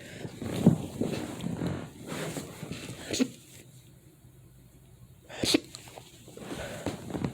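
Breathy, stifled bursts come in short catches, a near-sneeze that builds a few times without fully releasing, quiet and close.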